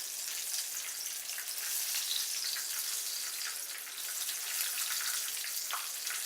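Breaded cube steak fries in hot oil at around 350 to 375 degrees, a steady, fairly quiet hiss and crackle with dense popping sizzle throughout and no talk.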